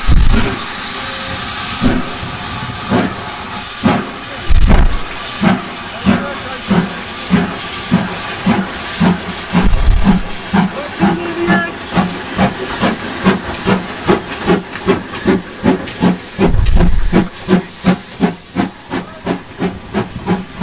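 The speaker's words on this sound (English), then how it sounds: "Signals for a train to leave, and here it goes" A steam locomotive on the West Somerset Railway pulls out of a station, opening with loud hissing bursts of steam, then settling into a steady, quickening chuff that repeats close by, with further blasts of steam along the way.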